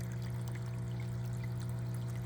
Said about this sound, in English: the flood and drain bed right now. See the water going in?